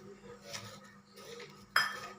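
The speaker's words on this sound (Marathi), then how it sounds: "आणि हे सार असं परतवत राहायचं असं मिक्स करत राहायचं" Jaggery and sugar being stirred in a pan over a low flame for a mango jam, with soft spoon scrapes and a sharp metallic clink of utensil against pan near the end.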